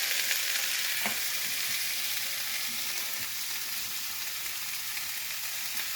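Country style steak sizzles steadily in a hot pan, a loud, continuous frying hiss with a few faint pops and scrapes, no voices.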